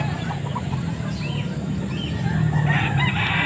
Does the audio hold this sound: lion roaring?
no